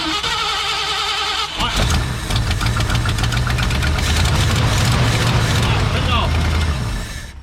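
A 1968 Ford F100 pickup engine fires up after a pull-wire start and keeps running on its own, a rough, knocking idle close and loud that persists to the end, with people talking over it.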